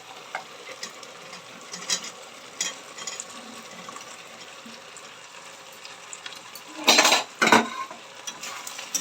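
Paneer pieces stirred into chilli paneer in a pan, giving soft scraping and clinking of a spoon against the metal under a light sizzle, with two louder bursts of stirring near the end.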